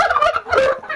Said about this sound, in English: Whenever they hear something loud, they just start gobbling like crazy.